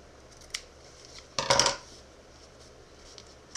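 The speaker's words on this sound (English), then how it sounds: "what I do then is I cut along the same angle as is my base" Scissors cut cape fabric at an angle for a no-sew superhero cape, producing one short, crisp burst of snipping and rustling near the middle, with faint isolated clicks before and after in a quiet room.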